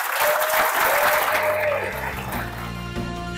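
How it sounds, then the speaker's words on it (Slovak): Large audience at a school year-end ceremony claps loudly and steadily for two students, the dense applause filling the whole stretch with a few voices mixed in and a faint tone and musical hum rising underneath toward the end. "Poprosím vás pre týchto našich dvoch žiakov obrovský potlesk."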